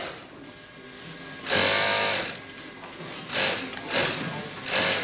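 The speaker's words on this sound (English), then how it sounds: "The strips, or strands, from the pelts are then sewn together to form a single, longer piece of fur." Sewing machine stitching strips of mink pelt into one longer strand of fur, heard as short bursts of loud rapid stitching separated by brief pauses, with a faint murmur in the gaps.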